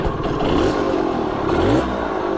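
A 1971 Yamaha Mini Enduro motorcycle engine running on a first ride outdoors, a close, steady buzzing drone with slight revving changes in pitch, without talk.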